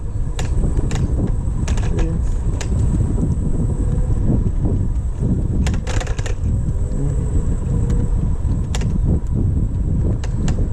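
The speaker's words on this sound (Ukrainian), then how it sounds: "Вітер дує сильний." Strong wind buffets the microphone with a steady low roar, with scattered sharp clicks and knocks over the top and no voices, around a Xiaomi M365 electric scooter.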